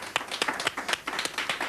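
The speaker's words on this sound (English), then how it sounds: "a round of applause for that" Studio audience applause on a mid-1990s music TV show, heard as a short, sparse patter of distinct claps from a modest crowd, close and fairly quiet.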